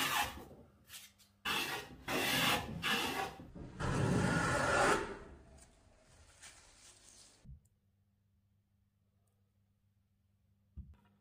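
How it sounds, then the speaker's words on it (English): Hand plane strokes squaring the edge of a reclaimed timber table top before glue-up, several loud rasping passes in the first half, then quieter work and near silence with a soft knock at the end. "The table top needs gluing back together now, so I'll plane it square by hand."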